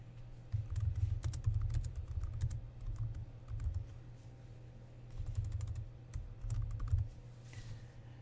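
Quiet, steady typing on a computer keyboard, soft clicking keystrokes in bursts with brief pauses, close by and with no talking.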